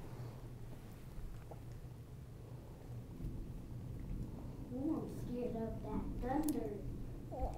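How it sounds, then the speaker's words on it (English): Low thunder rumbles steadily through the room during an indoor newborn photo session, fairly faint and distant, with a few soft vocal sounds rising near the end. "is the thunder making me scared?"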